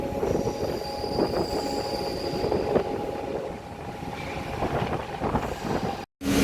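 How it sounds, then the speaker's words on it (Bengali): A local train on the Kharagpur to Howrah line pulls into Santragachi junction at night, wheels rumbling and clattering over the rails with high metallic squeals, steady and close throughout. "ট্রেন আমাদের সাঁতরাগাছি জংশন ঢুকছে"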